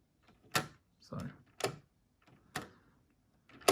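A LEGO Haunted House set's built-in door mechanism clicks and clacks shut, a few sharp plastic taps spaced about a second apart, close and quiet, with a low voice murmuring briefly between them.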